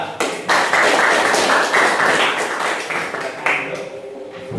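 A classroom audience applauds a student group after their presentation, with steady close clapping throughout and a few voices mixed in.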